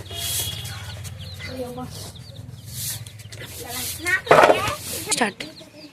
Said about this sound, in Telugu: కోడిపిల్ల కొని 2 days అయ్యింది